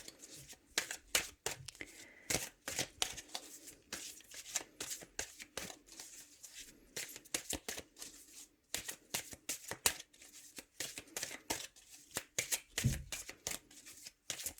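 Oracle cards shuffled by hand at close range, a long run of quick papery flutters and soft slaps in uneven bursts, fairly quiet, with no voice over it.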